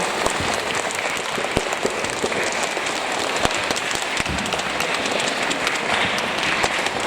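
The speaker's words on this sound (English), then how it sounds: "Give them a round of applause" A school assembly audience at a Harvest Festival in a church gives sustained applause, many hands clapping in a steady, dense roar with sharper individual claps standing out nearby.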